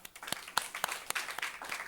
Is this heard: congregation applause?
yes